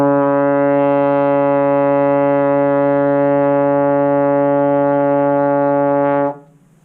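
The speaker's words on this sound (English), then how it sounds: "and a D sounds like this." A trombone sustains a single D in fourth position with steady, full breath for about six seconds, then stops abruptly; the tone is loud, close and unaccompanied.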